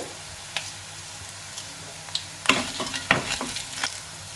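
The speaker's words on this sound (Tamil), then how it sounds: "இந்த அளவு வறுபட்ட பிறகு நம்ம மிளகாய் வத்தல் சேர்த்துக்கலாம்" Garlic and dried red chillies fry in a pan for garlic thuvaiyal, a soft steady sizzle broken by scattered scraping and stirring clicks, which grow busier toward the end.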